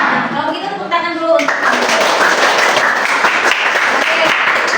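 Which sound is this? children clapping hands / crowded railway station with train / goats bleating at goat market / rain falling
children clapping hands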